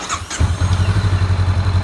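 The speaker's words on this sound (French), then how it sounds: "Donc nous allons démarrer la moto" A Honda CB500F motorcycle engine cranks briefly and catches, then settles into a loud, steady, close idle with an even rapid pulse.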